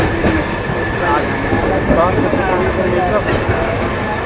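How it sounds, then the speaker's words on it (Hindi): A moving Sampoorn Kranti Express train heard from inside a crowded general coach: a loud, steady rumble with wheel squeal and rhythmic clacking, and voices talking underneath. "चल पड़ी ट्रेन ना"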